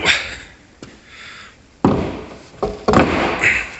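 A hinged wooden door swings and closes with several knocks and thuds, a sharp bang followed by rattling bumps, close and loud over a hollow room background.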